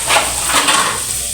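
Reheated chicken sizzles steadily in a pan, a close, continuous hiss with faint utensil sounds.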